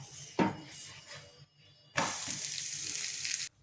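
A thick instant dosa with oil drizzled around its edge sizzles on a hot pan, a short burst of hissing followed by a quiet pause, then a louder sustained sizzle for over a second.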